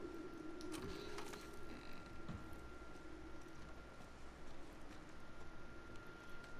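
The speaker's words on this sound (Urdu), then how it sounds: "کبوتروں کا بڑا شور ہے بھائی" Low cooing of pigeons in the video game The Last of Us Part II drifts under a constant hum and background wash, soft and repeating from nearby.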